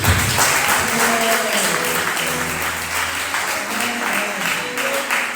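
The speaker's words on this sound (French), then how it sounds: "Est-ce qu'on peut acclamer pour nous?" Congregation at a church worship service breaking into sustained applause, a dense wash of clapping that runs steadily throughout with a few faint voices mixed in.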